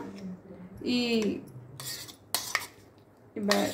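A knife spreads vegetable sandwich filling onto bread, giving a few short scraping clatters and clinks close by, with quiet gaps between strokes and a brief voice-like sound early on.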